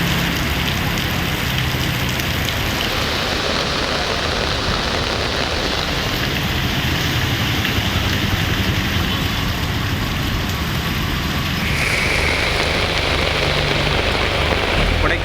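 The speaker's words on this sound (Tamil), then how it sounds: "நீலகிரி மாவட்டத்தில் கூடலூர் மற்றும் பந்தலூர் உள்ளிட்ட இடங்களில் கனமழை வெளுத்து வாங்கியது." Heavy monsoon rain pours across Gudalur and Pandalur in the Nilgiris district, a steady dense hiss that holds at the same loud level throughout, with a faint low rumble underneath.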